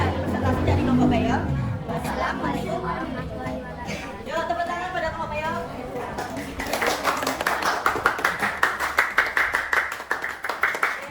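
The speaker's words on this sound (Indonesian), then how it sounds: "Yuk, tepuk tangan pada kelompok PEL." Classroom of sixth-grade students clapping for a group's presentation in a maths lesson, voices chattering over the start before a burst of many hands clapping fills the second half, loud and close.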